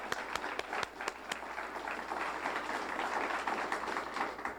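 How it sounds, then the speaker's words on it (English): Sustained audience applause at a civic service awards evening, dense steady clapping from a crowd with a few sharp individual claps standing out near the start. "let's have another round of applause so I can hear us going out the door"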